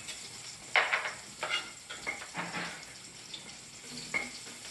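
Chopped garlic sizzles in a hot pan with crackling bursts that rise and fade, joined by a few light stirring scrapes and soft watery hiss, close by with no voices.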